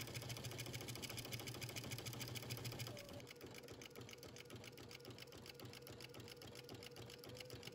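A sewing machine runs continuously, stitching a back stitch and then a dress seam up to the end of a sleeve. The fast, even mechanical whirr and clatter shifts slightly in tone partway through.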